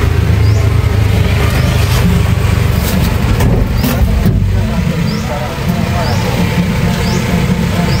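A tricycle engine running steadily with a constant motor drone, loud and close throughout, while people talk over it.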